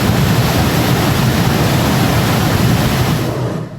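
Floodwater rushing after a cloudburst in Jammu and Kashmir, a loud continuous roar of fast-moving water, steady throughout and easing slightly at the very end.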